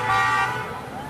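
A passing car sounds its horn in a short, steady toot outdoors near a Scientology building, with street noise and faint voices around it.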